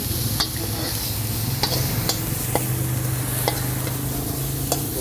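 Red ant eggs roasting dry in a pan give a steady close rustling sizzle, broken by sharp regular ticks and scrapes of stirring.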